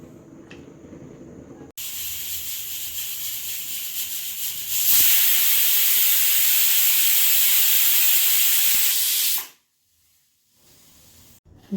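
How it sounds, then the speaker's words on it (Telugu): A pressure cooker cooking green gram dal releases steam in a loud, rushing hiss that swells stronger midway, then cuts off abruptly to near silence. "కుక్కర్ పెట్టి 4 విజిల్లు ఉడికియాలి"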